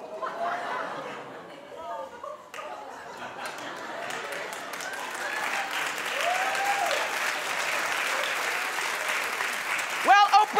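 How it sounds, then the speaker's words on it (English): A television talk-show studio audience breaks into applause that swells and holds steady, with some chatter and laughter mixed in and a few whistles near the end. "Clap if this sounds like a show you'd be interested in."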